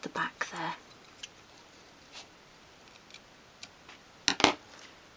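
Small scissors snipping thread while stitching a 1/12th scale dolls house door mat, a few quick faint clicks and snips close by, spread out between quiet pauses.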